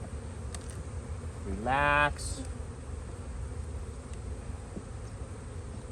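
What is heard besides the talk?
honeybees buzzing at open hive during inspection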